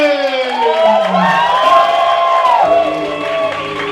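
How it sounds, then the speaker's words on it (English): Poetry slam crowd in a Calgary pub clapping and cheering for the host, a loud burst of whoops and shouts with sustained voices rising over steady clapping throughout. "start clapping now for your host, Cobra Collins"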